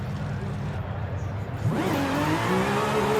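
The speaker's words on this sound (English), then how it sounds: "listen to that supercharged whine" A supercharged Gunther Werks GW 911 Carrera C2 400R accelerating from inside the car: a steady engine rumble, then a rising supercharger whine that climbs in pitch as it pulls away.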